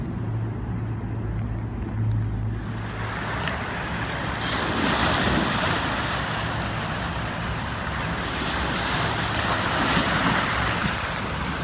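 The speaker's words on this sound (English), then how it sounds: "Ah, the waves are coming!" Waves wash onto the River Thames foreshore in London, a loud continuous rush of surging water and churning spray with heavy wind buffeting the microphone, building and rolling throughout.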